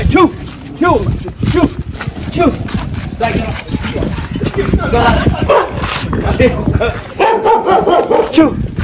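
A dog barks repeatedly in short bursts over continuous, overlapping talk from nearby people, the barks close and fairly loud.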